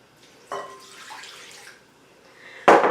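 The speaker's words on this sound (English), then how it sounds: "Alright, I'm going to add my water." Water is poured into a gingerbread cake mixture in a bowl, giving quiet, brief trickles and splashes with a sharper splash near the end.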